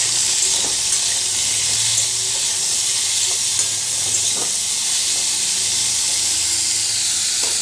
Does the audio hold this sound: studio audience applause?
no